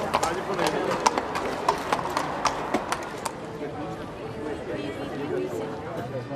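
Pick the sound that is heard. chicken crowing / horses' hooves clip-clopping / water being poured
horses' hooves clip-clopping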